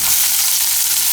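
Sliced onion sizzles loudly in hot oil with curry leaves and green chillies for dahi poha, a brief, continuous bright hiss heard close up with no speech.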